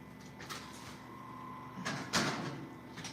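A dish is slid into a kitchen oven: a faint hum, then a couple of soft sliding clunks from the door and rack, close by and fairly quiet.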